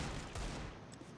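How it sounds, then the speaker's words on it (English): Gunfire in a first-person shooter game, a dense fusillade of rapid shots and bursts filling the short stretch, loud and close without any talk. "if someone walks in front of me, I'm just gonna shoot through you, try to get the kill"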